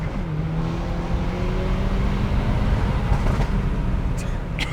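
Hyundai Elantra N fitted with an SXTH midpipe and downpipe, its engine droning at a steady rev with a rising tone, loud and close, with brief high chirps near the end.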